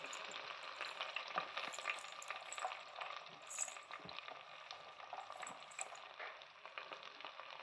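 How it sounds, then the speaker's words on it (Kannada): Tempering sizzles and crackles in hot oil in a pan for homemade beans palya, a steady close frying hiss with scattered pops and faint stirring clinks. "ಚಟಪಟ ಸೌಂಡ್ ಬರ್ತದಲ್ಲ, ಸ್ವಲ್ಪ ಉರಿಬೇಕು, ಎಣ್ಣೆಯಲ್ಲಿ ಸ್ವಲ್ಪ ಉರಿಯಿರಿ"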